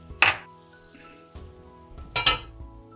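Leek cooking in a pan gives two short, bright bursts of sizzling, one near the start and one near the end, over a quiet kitchen background.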